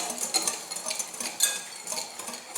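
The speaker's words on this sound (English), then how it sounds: "And then you want to whisk the sugar and cornstarch together." Sugar and cornstarch whisked together in a bowl, quick light scraping and clinking strokes in an uneven rhythm, close and fairly quiet with no speech.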